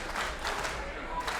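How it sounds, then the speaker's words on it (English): A pro wrestling crowd in Toronto claps in a rhythmic, pounding Terminator beat for X-Division wrestler Brian Cage, a steady wash of arena clapping under a commentator's voice. "Terminator clap for Cage."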